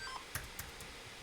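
A small electronic beep sounds as a key is plugged into a generator in a Scratch raycasting game, two faint brief tones against quiet background.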